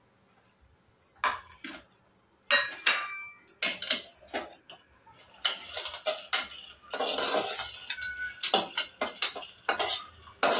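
Cumin seeds dry-roasted with peanuts and chillies in a pan, heard as irregular metallic scrapes and clinks of a spoon stirring against the pan, in short bursts separated by quiet pauses.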